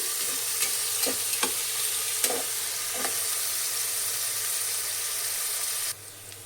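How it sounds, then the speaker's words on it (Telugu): Three onions, three green chillies and curry leaves frying in oil give a steady close hiss with a few scraping stirs early on, and the sizzle drops to a quieter level near the end. "ఇది కాస్త ఎర్రగా అయ్యే వరకు వేపుకోవాలండి."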